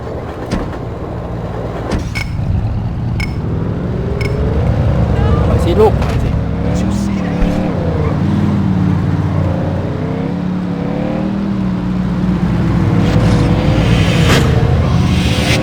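A car driving toward Midtown in a Godfather video game, a steady engine hum with rising and falling revs and a few sharp clicks, running under continuous talk.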